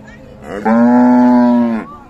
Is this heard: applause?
no